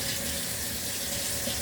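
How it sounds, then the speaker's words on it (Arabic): Tap water runs steadily into a newly installed smart washbasin, a continuous close hiss of flowing water with no voices. "الحنفية بتاعتنا"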